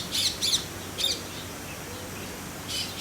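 Birds chirp in short bright bursts at Kuala Lumpur Bird Park, a few separate calls over a steady low outdoor hum.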